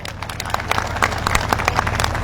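Crowd applause at a political speech rally in Vagra, Bharuch district: a loud, busy patter of many hands clapping with some rhythmic unison, over a steady low loudspeaker hum.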